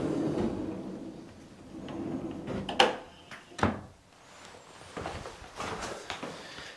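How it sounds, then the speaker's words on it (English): A soft-close pocket door slides shut in a house under construction, giving a couple of sharp thuds and a soft knock amid quiet shuffling and handling noises. "I'm gonna shut the door and see how it sits up against there"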